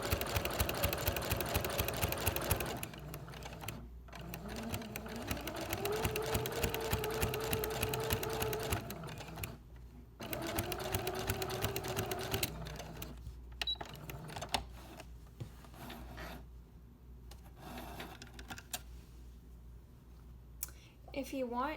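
Sewing machine quilting a fabric leaf-shaped potholder, its motor running in steady bursts with short pauses between stitching runs, fairly close and continuous over most of the stretch, with a bit of faint handling noise.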